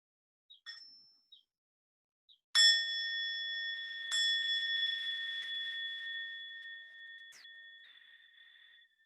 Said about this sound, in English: with the sound of the bell, we'll bring this practice to an end.